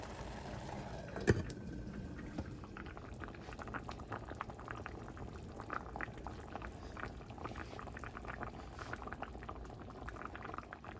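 Seeraga samba rice boiling in a small rice cooker, giving a faint, steady bubbling that continues without a break, with one brief louder knock near the start.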